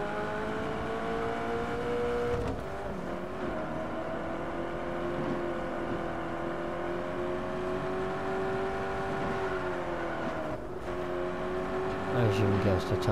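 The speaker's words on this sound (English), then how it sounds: "Got a nice engine roll to it" Small car's engine droning and revving steadily in Just Cause 3, a continuous loud tone that dips briefly around midway and again near the end, with a voice talking over it.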